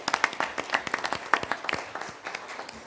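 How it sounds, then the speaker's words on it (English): Audience at a county commission meeting giving a round of applause, loose scattered hand claps from a modest group that thin and fade over a few seconds. "let's give her a round of applause as well."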